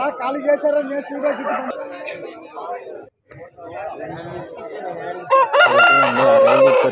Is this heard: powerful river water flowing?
no